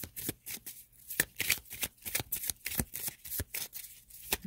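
Tarot cards being shuffled in quick, crisp riffling bursts, close and fairly loud, with a steady rustling rhythm and no talk.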